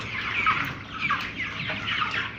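A flock of chickens kept indoors in a crowded, poorly ventilated room clucks and chatters continuously at close range, with overlapping high-pitched calls and no human voices.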